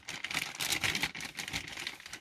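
A plastic bag holding a new pocket knife crinkles in short, irregular rustling bursts, close up and fairly quiet, with no one talking.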